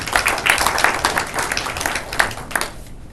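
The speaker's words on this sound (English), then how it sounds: "Let's give him a warm applause." Warm audience applause at a Taiwan–EU electric vehicle industry investment forum, greeting the chairman of the Taiwan Electrical and Electronic Manufacturers' Association; dense, steady clapping from a sizable crowd that fades toward the end.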